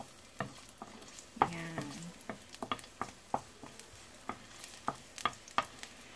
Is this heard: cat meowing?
no